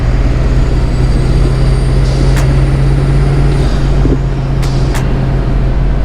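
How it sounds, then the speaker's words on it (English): A diesel engine runs loud and close with a steady, dense low drone that holds evenly throughout, with a few faint ticks and clicks over the top. "Ah, beautiful, beautiful diesel sounds."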